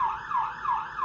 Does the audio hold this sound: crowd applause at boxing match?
no